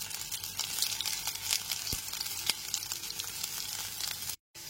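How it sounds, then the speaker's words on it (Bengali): Potato pieces fry in hot mustard oil over a medium flame, a dense continuous sizzle with a few faint stirring knocks, close and steady until a brief cut near the end. "গ্যাসের ফ্লেমটা মিডিয়ামে রেখে আলুর টুকরোগুলো উল্টো পাল্টে নিয়ে ভালো করে ভেজে নেব"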